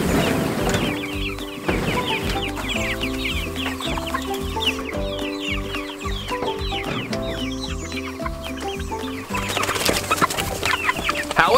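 Meat-bird chickens clucking steadily in a tractor pen, a dense close chorus of overlapping calls with steady low tonal noise underneath.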